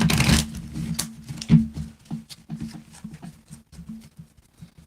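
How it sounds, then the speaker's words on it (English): Tarot cards being shuffled by hand, a quick run of soft riffling flicks and patting taps, close and fairly quiet, repeating in irregular bursts with a low hum beneath. "I mix the cards this way and that way, Mama Sushi. And I'm going to give them 3 shuffles."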